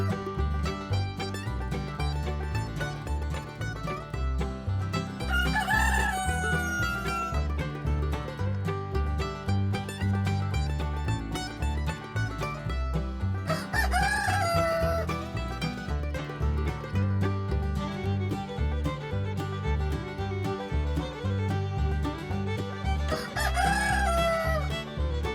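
A rooster crowing three times at intervals, each call rising and falling, heard over continuous loud music.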